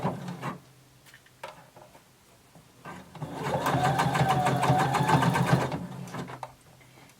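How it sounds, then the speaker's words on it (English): A sewing machine runs a steady stitch along a sleeve underarm seam for a few seconds, loud and close, framed by quieter handling noises before and after. "And we're going to sew using 5/8 of an inch seam allowance."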